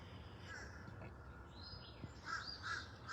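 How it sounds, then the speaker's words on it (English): A crow caws outdoors, a few harsh calls coming in toward the end, moderately near against faint ambient noise. "Oh, you're a crow."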